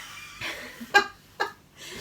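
A person sneezes close by, a short sharp burst preceded by a quick intake of breath, followed by another brief expulsive noise in an otherwise quiet room.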